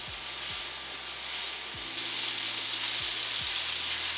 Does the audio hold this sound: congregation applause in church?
no